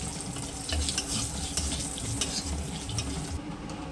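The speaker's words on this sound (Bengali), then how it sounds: "কালো জিরে ফোড়ন দিয়ে দিচ্ছি দুটো শুকনো লঙ্কা" Nigella seeds and two dried red chillies crackle and sizzle in hot oil for a Bengali shrimp and greens dish. A steady close frying hiss carries light stirring scrapes, and no one talks.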